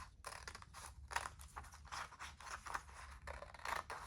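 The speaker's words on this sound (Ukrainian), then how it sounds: "Ножицями обережно вирізаємо" Several quick snipping and crunching strokes of scissors cutting a half-heart shape from paper, close by, in short bursts with brief pauses between them.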